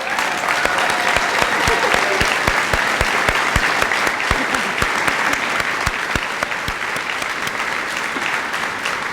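Audience applause at a high school graduation ceremony, a loud sustained round of many hands clapping with sharp individual claps standing out across the whole stretch.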